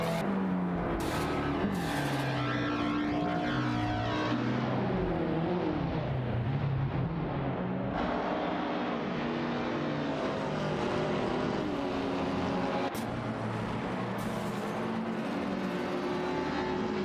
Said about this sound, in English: Bot James Smile, who is piloting the rather charming Volkswagen Golf